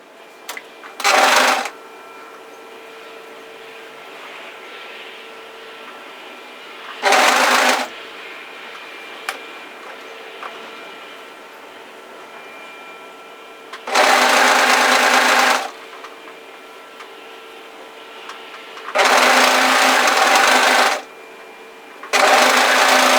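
A sewing machine stitching the lower sleeve of a hoodie, running in four or five short loud bursts of a second or two each, separated by quieter stretches of faint handling noise.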